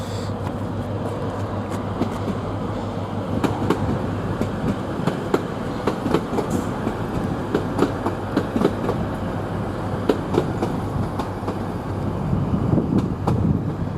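An LNER train pulls out of York station bound for London King's Cross, a steady low rumble of rail traffic with clickety-clack wheel beats and a louder swell near the end, heard alone without talk.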